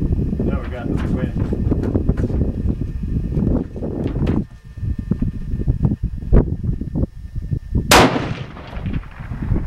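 Outdoor shots from a Lapua rifle in wind, with one loud sharp crack near the end standing out over gusty microphone rumble and someone talking throughout.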